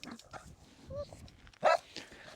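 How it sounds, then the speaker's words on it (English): A dog in a home gives a sharp bark and a few softer yips and whines in the background while people talk quietly nearby. "Oh, the dog's barking."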